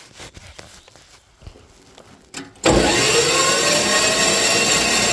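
A Chinese diesel mini loader cranks and then roars into life after a few quiet clicks and handling noises. Its engine settles into a loud, steady running clatter.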